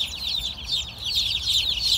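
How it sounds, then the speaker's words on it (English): A large flock of chickens, including Brahmas, mixed breeds and newly hatched birds, clucks continuously in a dense, overlapping chorus, close and steady over a low background hum. "There is a lot of chicken here."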